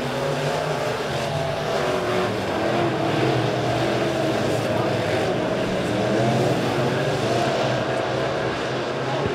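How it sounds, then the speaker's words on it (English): USRA B-Modified race cars roar around Springfield Raceway in a dense, continuous drone of engines that stays loud throughout, with a race announcer talking over it. "the cars continue to motor around the Springfield Raceway"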